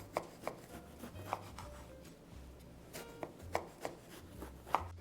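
A kitchen knife trims the ends off an eggplant on a cutting board: several separate sharp chops and taps, close and fairly quiet, spaced about a second apart over a low background hum.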